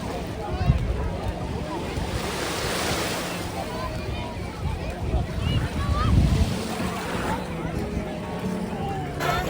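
Lake Huron waves wash in at Grand Bend beach, a broad rushing surf with steady wind buffeting the microphone and swells that rise and fall.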